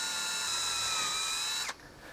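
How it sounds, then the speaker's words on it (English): A small Dremel-type rotary drill bores into a pearl inlay on a Martin D-45 guitar, a steady high whine held close for under two seconds, then cutting off sharply. "I'm going to start by drilling a hole in that pearl"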